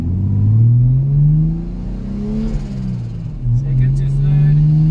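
A Toyota Hilux fitted with a 2JZ engine revs up under acceleration, its tone climbing, dipping briefly at the shift from first to second gear, then rising again, loud and close.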